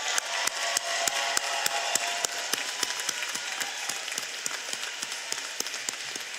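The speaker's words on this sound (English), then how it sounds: "let's give them another round of applause for their achievement." Graduation ceremony crowd applauds the graduates, a broad continuous patter of many hands heard from a distance, with a few sharper individual claps standing out in an irregular rhythm.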